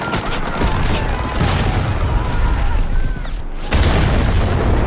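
A loud explosion rocks a remote military post during a heavy attack in a film, a sustained roaring rumble with a brief dip before the blast surges again.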